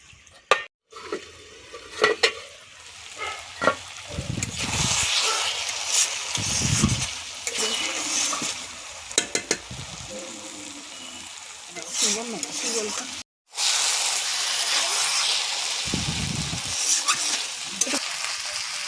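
Bhetki fish bone curry being stirred and fried in a pan, with a steady sizzle, intermittent scraping and clatter of the spoon and brief pauses, and a person talking at times.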